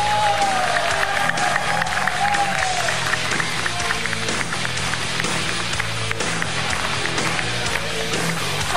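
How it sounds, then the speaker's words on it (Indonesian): Studio audience applause at an Indonesian televised talk show, dense, continuous clapping from a crowd that stays loud throughout, with music and some voices mixed in. "Boleh tepuk tangan sekali lagi dong Pak Jokowi"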